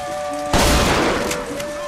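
A loud gunshot blast from the BioShock Infinite video game cuts in abruptly after a quiet stretch of steady tones, with a short burst of noisy impact that decays over about a second under background game music.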